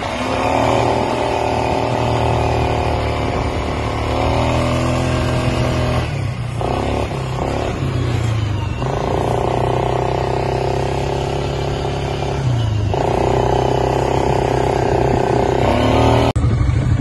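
Up close, a quad bike engine revs loudly as it speeds across the desert, pitch rising and falling in repeated surges with brief drops between gear changes, steady and without speech.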